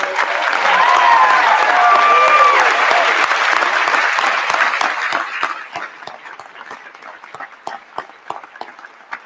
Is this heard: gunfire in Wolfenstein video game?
no